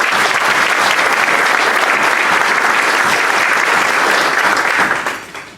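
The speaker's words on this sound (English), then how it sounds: "I think another round of applause" A full, dense round of applause fills a Rotary club meeting room, steady and loud throughout before tapering off at the very end.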